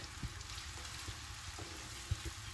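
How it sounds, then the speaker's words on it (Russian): Carrots fry in a pan over high heat, giving a faint, steady sizzle with a few soft clicks and knocks of stirring, no voices. "Пускай дальше жарится."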